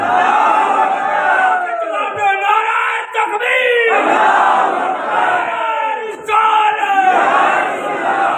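Crowd at an Eid Milad mehfil in Bajwat chants Haidari slogans in loud, repeated call-and-response waves, many voices shouting together in rhythmic bursts close to the microphone.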